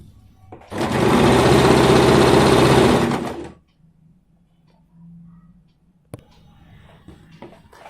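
A sewing machine stitches fabric for an Afghani salwar in one close, steady run of about three seconds. A softer, brief whir and a sharp click follow in the quiet after it.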